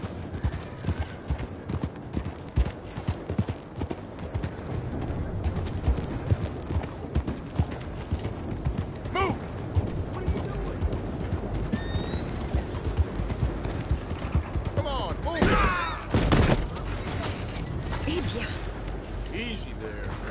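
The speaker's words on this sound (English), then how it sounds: "Horse liable to buck you off with a name like that." Horse hooves clip-clop in Red Dead Redemption 2, a steady rhythmic trot running throughout under a man's speech, with a brief louder burst of movement near the end and a faint whinny.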